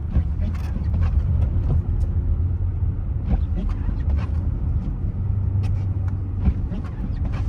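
A 2023 Toyota Corolla Cross Hybrid drives on snow in manual mode, downshifted to second gear, giving a steady low engine and road rumble with faint scattered clicks and crunches under a muffled cabin.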